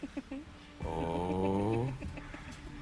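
A person on a British TV chat show breathes heavily in a long, loud, rasping snore-like rush lasting about a second, set amid soft studio noise and murmuring.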